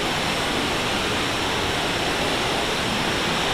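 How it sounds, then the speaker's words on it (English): A fast-rushing, glacier-fed waterfall in Jasper National Park roars with a dense, steady wash of water, loud and close, no voices over it. "That is actually one of the fastest rushing falls that I've seen yet"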